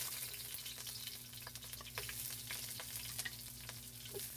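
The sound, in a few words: garlic and onion toasting in a pan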